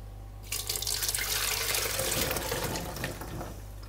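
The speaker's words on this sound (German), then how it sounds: "Die Cashews sind schön weich gekocht und die gieße ich jetzt durch ein Sieb." Boiled cashews and their cooking water pour through a sieve into a sink, a steady close rush of splashing liquid that starts after a brief quiet moment and runs continuously to the end.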